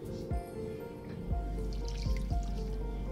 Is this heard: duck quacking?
no